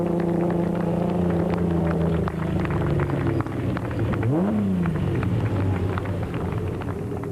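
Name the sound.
Ford Ranger race truck engine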